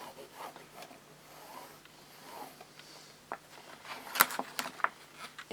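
Pen or chalk tracing a line across patchwork fabric, close and quiet, a soft scratchy rub with a few sharper strokes near the end.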